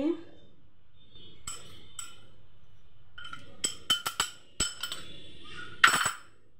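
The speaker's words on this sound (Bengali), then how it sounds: "ডিমটাকে ফেটিয়ে নিলাম" A fork beating egg in a bowl for chicken pakora batter makes scattered sharp metallic clinks against the bowl, irregular and close, separated by quiet gaps.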